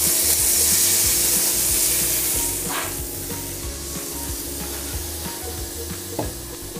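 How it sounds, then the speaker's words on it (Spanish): Wine poured into a hot frying pan used for slow-cooked Burgundy-style veal, sizzling loudly and steadily with a constant hiss that eases slightly after a few seconds, with faint stirring and utensil taps. "Y en la misma sartén echamos el vino"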